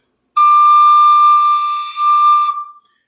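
A single sustained high whistle-like note with a clean, pure tone, held steady for about two seconds before tapering off.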